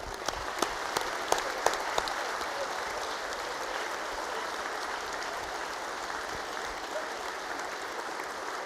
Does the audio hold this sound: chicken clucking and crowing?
no